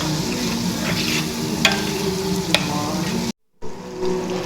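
Tomatoes frying in a pan for mutton dum biryani, stirred steadily with a spoon, giving a continuous close sizzle with a few scraping clinks and one brief dropout near the end.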